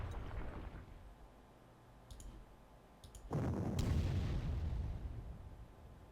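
Artillery fire in the Panzer Corps strategy game starts with a few faint clicks, then one heavy boom that rolls out into a sustained rumble.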